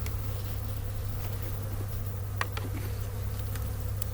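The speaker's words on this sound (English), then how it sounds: "Move the bees away from the lugs where they're tightening up." Honey bees in an opened hive during a warm February spell, a dense steady buzzing drone close by, with a few sharp scraping clicks over it.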